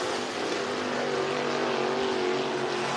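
IMCA Modified race cars qualifying at Cottage Grove Speedway, a continuous loud engine drone with a sustained droning tone, dense and steady like cars circulating nearby, no talk.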